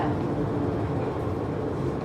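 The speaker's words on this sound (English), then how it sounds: "And here comes the train." A train pulls into a station in Hong Kong, producing a steady, heavy low rumble that fills the whole moment, with no talking.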